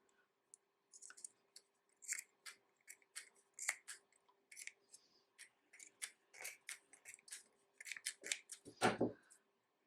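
Scissors snip excess crochet yarn in a quiet room, a steady run of sharp, close clicks and cuts over about ten seconds, ending in a louder rustle.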